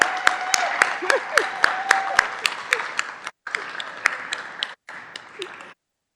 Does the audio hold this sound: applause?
yes